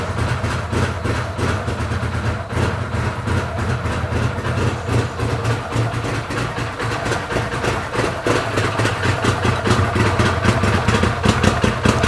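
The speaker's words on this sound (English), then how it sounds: "Now that is a cold start," Side-by-side UTV engine just after a cold start, idling with a steady rapid chug and heavy low rumble, heard loud and close from near the exhaust, with no talking over it.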